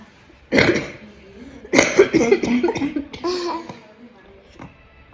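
A person with a week-long cough coughs in a few harsh bursts, one single cough then a longer fit of several coughs, close and loud.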